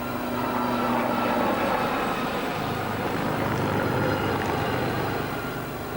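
A Lynx helicopter of the Blue Eagles display team flies past, a loud, steady engine and rotor roar with a low drone that swells and eases slightly as the aircraft holds near overhead.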